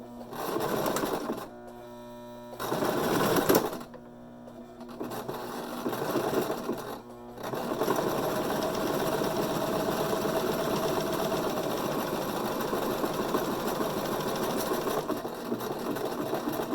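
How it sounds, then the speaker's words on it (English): A sewing machine runs close by, stitching just below a seam in fabric, with a few short stop-start bursts early on and then a long, steady, even whir that continues to the end. "the next thing I'm going to do here is just stitch right below this seam, just about a foot's width."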